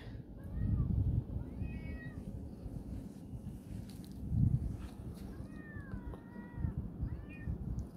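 A cat near cat food gives several short, rising meows spread over a few seconds, fairly faint against low background rumble.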